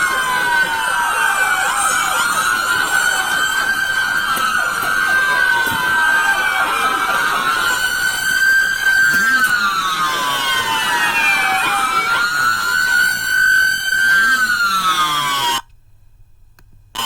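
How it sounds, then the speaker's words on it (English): Several police vehicle sirens wail over one another, overlapping rising and falling sweeps and a steady high tone, loud and continuous, with crowd noise beneath, then a sudden cut near the end. "All these vehicles have come to a stop, but yet you still hear sirens"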